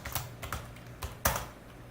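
Fingers tap on a new computer keyboard in a scattered rhythm of soft clicks, with one sharper keystroke near the end, close and quiet, with nobody speaking.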